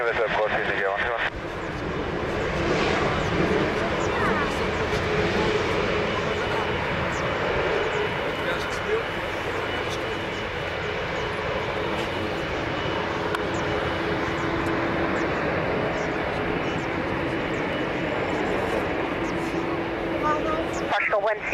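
A fixed-wing airliner's engines roar steadily at Lisbon Airport, a loud, sustained broadband rumble lasting throughout with no pauses.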